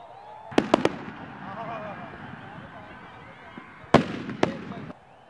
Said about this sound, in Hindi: आपने खूबसूरत मनाजिर देखे आतिशबाजी के मीनार पाकिस्तान से